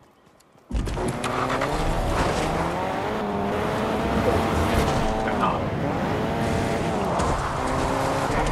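A car engine in the Fortnite video game revs and drones steadily, loud and close, with shifting pitch as it drives on without pause.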